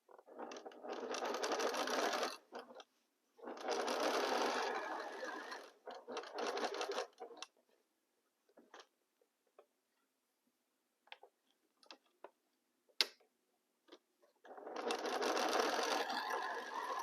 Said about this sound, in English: Start sewing again.